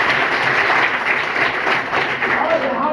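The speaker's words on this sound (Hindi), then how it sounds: "एक बार बहनी के लिए जोरदार ताली" Applause from a school audience at a secondary school gathering in Kerakat, Jaunpur, cheering for a girl; a dense, steady wash of clapping fills the whole stretch at close range, with some voices mixed in.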